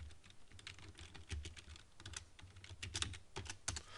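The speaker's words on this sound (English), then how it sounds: "And I'll type in temperature." Someone types a short word on a computer keyboard, with soft uneven clicks in quick bursts, close but quiet, plus a faint low hum underneath and no speech.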